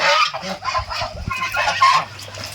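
Chinese geese on a duck farm honking in repeated nasal calls, several birds close by with overlapping honks.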